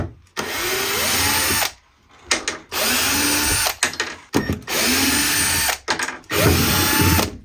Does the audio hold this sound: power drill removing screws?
yes